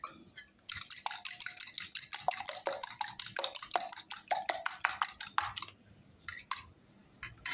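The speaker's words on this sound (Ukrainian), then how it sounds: "І це треба збити все. Ну, вилочкою." A fork beats a dough mixture of salted ingredients in a bowl, giving a rapid, steady run of close metallic clicks and scrapes against the bowl for several seconds, with a short pause and a few last taps near the end.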